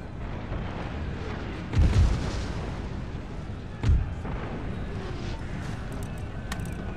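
Two heavy booms of musket and cannon fire in a battle in the video game Empire: Total War, a few seconds apart, over a steady rumbling background of distant combat.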